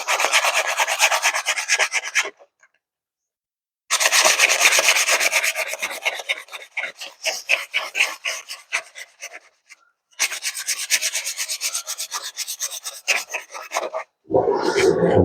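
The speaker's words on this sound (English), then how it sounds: "Sandpaper do the work." Sandpaper rubbed with very light pressure over an engine part surface, rapid rhythmic rasping strokes in bursts of several seconds separated by pauses, close and crisp with no talk.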